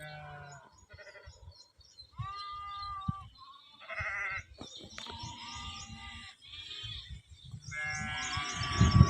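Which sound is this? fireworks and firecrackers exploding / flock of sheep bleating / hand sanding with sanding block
flock of sheep bleating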